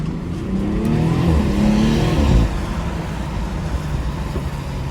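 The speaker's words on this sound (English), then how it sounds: "Beautiful sound of that B58 engine." A BMW 340i with its B58 engine pulls through a slippery night drive on wet roads, the exhaust swelling into a strong rising rev for about two seconds, then dropping back to a steady cruising drone with tire hiss.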